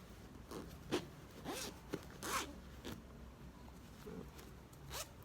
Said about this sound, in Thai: ก็ทำการลูดซิปนะคะปิดเลย